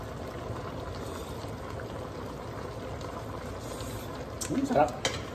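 Bangus (milkfish) simmers in a pot of boiling broth for pesa, a steady bubbling rumble throughout with a short burst of sloshing near the end.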